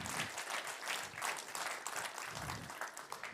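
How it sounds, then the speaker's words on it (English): Conference audience applause rolls on as a quiet, continuous wash of many hands clapping, steady and somewhat distant throughout. "Another round of applause for Jan Pennikhoff."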